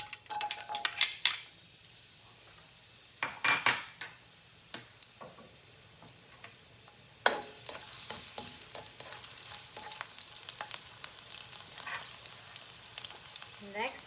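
Garlic frying in about three tablespoons of virgin olive oil in a pan, a soft continuous sizzle with intermittent clinks and scrapes of a utensil stirring, louder bursts early on, no talking.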